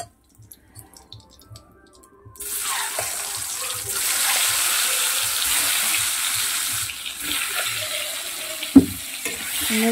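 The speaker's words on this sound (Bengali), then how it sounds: "বাকি 4টে ডিমগুলোকে পরে ভেজে নিচ্ছি" Eggs fry in a pan with a steady sizzle that starts after a few quiet seconds of soft knocks, with a sharp clink near the end.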